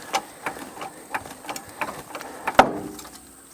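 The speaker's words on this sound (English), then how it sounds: "Yeah, I hear it pulling roots." A winch drags tree roots out of the ground in the woods while an abandoned 1974 Ford van is being recovered. Rhythmic mechanical ticks and thumps repeat about three times a second, then a sharper crack near the end.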